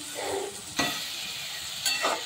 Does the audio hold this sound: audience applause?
no